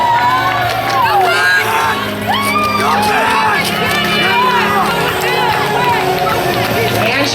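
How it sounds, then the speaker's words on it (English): Roller derby fans at a bout cheer and shout for a skater, loud crowd noise with whoops and excited children's voices layered over a constant arena hubbub. "If there's any fans, go ahead and give her a little applause."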